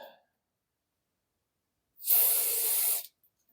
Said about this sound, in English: I'm also going to spray some in the socket